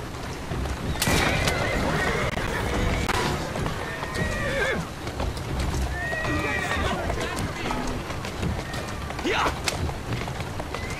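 Horses whinny repeatedly over steady clip-clopping hooves in the video game Assassin's Creed Syndicate, set amid a busy, noisy street scene with voices talking and shouting throughout.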